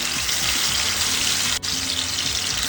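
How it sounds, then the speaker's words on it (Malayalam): Kingfish pieces frying in hot oil give a steady, close, dense sizzle that holds evenly throughout, with one brief dip partway through. "ഇനി നമുക്ക് നമ്മുടെ മീനും കൂടെ ഇതിനകത്തോട്ട് ഫ്രൈ ചെയ്തെടുക്കാം."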